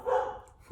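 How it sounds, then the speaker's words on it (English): Dogs barking in the background, a single drawn-out bark or yelp at moderate distance, then a brief low thump right at the end. "Sorry about the dogs barking."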